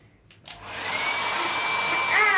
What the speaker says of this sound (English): to a hair dryer.